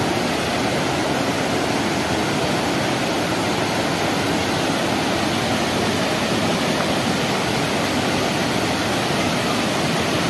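Steady, loud rushing roar of a waterfall in Jharkhand, India, swollen with muddy water after rain, broadband and constant throughout with no voices.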